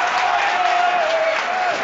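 Hereford football crowd noise swells as a steady, dense roar of cheering and applause, with no single voice standing out.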